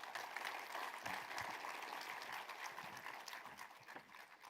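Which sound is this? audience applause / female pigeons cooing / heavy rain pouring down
audience applause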